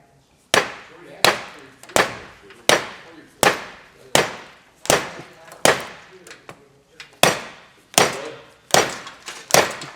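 A steady run of hard, sharp hammer blows lands on a second hammer wedged against a stuck EGR cooler, about fourteen close, evenly paced strikes.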